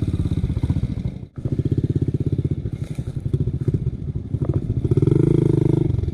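A small motorcycle carrying riders labors along in a loud, close, uneven drone, its engine note sagging with a brief sharp dip before pulling back up and swelling again near the end.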